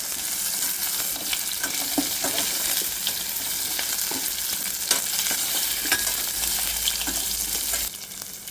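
A vegetable curry fries in oil on a simmering flame, a steady crackling sizzle broken by scraping stirs of a spoon against the pan.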